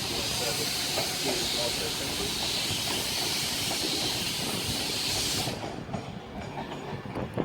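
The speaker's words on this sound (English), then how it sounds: "also arriving in is the delayed 1345 Virgin Pendolino service to Glasgow Central as well" A Virgin Pendolino train arrives at Carlisle station with a loud sustained hiss and rolling rumble with wheel clatter, close by, then cutting off abruptly to quieter station ambience.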